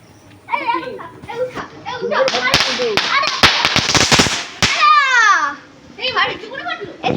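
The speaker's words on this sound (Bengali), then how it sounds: "তুই তো জ্বালাচ্ছিস তো বাজি" Children setting off firecrackers at home during a candle-lighting celebration: several sharp cracks and pops burst close by, mixed with excited children's voices and chatter throughout.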